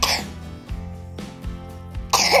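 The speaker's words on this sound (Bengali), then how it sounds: "শুধু কাশি লাগছে" A few short, rough coughs or throat-clearing bursts, close and moderately loud, spaced irregularly with quiet between them.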